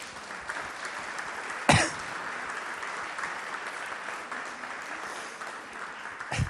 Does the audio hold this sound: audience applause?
yes